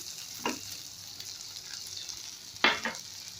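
Tawa idli frying in butter on a griddle, a faint continuous sizzle with two brief louder scrapes as the pieces are stirred and turned.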